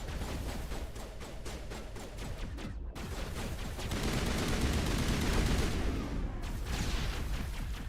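Grenade blast in an online shooter game, set within dense, continuous gunfire and rumbling booms that swell louder toward the end, with no clear single isolated explosion standing out.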